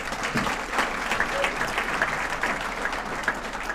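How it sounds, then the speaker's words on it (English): An audience at a university scholar-athlete recognition awards ceremony applauds steadily, a dense wash of many hands clapping at even loudness, with no one speaking over it. "How about a round of applause from them, their leadership?"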